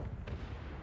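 Explosions in the game Second Extinction, heard as a dense, low booming rumble with a sharper burst near the middle, lasting under a second with no talking.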